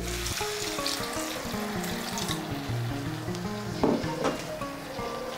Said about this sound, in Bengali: এর মধ্যে আমি দিয়ে দিচ্ছি 1 কাপ গরম জল।